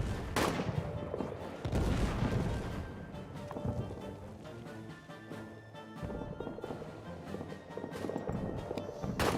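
Scattered rifle and machine-gun fire cracks across a trench warfare battlefield in a video game, bursts of shots rising and falling over a continuous backdrop of combat noise.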